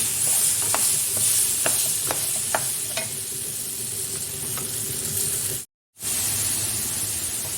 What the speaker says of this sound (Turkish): ara ara karıştırarak patateslerimizin güzelce kızarmasını sağlayalım